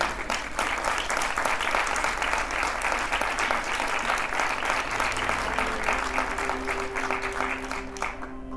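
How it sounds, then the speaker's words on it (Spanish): Lecture audience applauding after a talk on Patagonians and Fuegians, a steady, dense wash of clapping from many hands that holds evenly throughout, with faint tones toward the end. "Un aplauso para todos."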